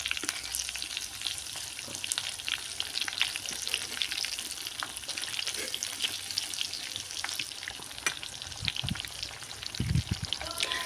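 Sardines frying in a hot pan over a strong flame, a dense crackling sizzle with sharp pops throughout and a couple of louder knocks near the end.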